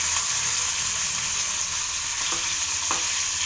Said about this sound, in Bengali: মাছ উল্টিয়ে দিচ্ছি।